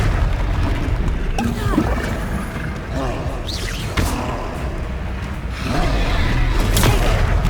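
A Confringo fire spell explosion from the Hogwarts Legacy video game bursts with a booming whoosh amid dense, continuous game sound, with several thumps and swishes layered over a loud rumbling background.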